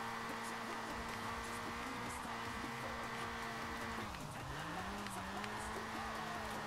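Car engine labouring under strain during a Mazda RX-7 versus Toyota Trueno race in Forza Horizon 4: a steady droning engine tone that holds, dips and climbs back again, with faint tire noise, mostly quiet and even throughout.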